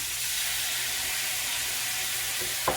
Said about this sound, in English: This is the hot ticket for sauteed mushrooms.